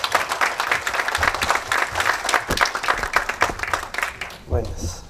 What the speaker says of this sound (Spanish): un aplauso y demos la bienvenida